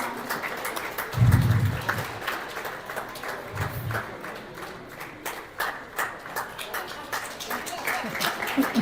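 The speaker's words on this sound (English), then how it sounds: "A round of applause for her." Audience applause for an honoree named Peace at a Nigerian community festival in Canada; a soft, steady patter of clapping from a crowd, fairly distant and low in level, with a brief louder burst near the start.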